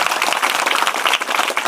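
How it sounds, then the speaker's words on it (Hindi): A classroom audience claps for a student, a short burst of dense, lively applause at close range with no talking. "जोरदार तालियां नव्या के लिए।"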